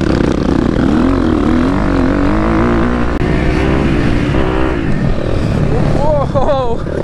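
A 2023 KTM 250 SX-F four-stroke dirt bike runs loud and steady at close range, its engine note rising and falling with throttle while a rider's voice carries over it.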